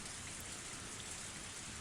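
Heavy rain downpour in the visual novel Higurashi, a dense, steady hiss of falling water drumming on surfaces, loud and unbroken.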